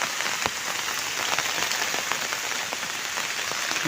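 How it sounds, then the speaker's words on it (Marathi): Heavy rain pours down steadily outdoors beside a fishing spot, a dense, even hiss of drops hitting surfaces close by with scattered louder splats, continuous and with no one talking. "आता पाऊस खूप जोरात आलाय"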